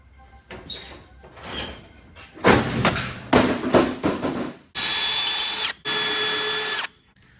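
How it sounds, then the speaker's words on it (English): Power drill boring out pop rivets on a service truck body, with knocking and clattering handling noises first, then two loud sustained bursts of high whining drilling near the end. "only bad thing about drilling out rivets is they always stick to the drill bit"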